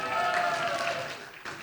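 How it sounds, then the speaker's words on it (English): Audience applause for event partners at a women in entertainment awards gathering in India, a short burst of clapping from a crowd that dips briefly before resuming. "A round of applause for them, please."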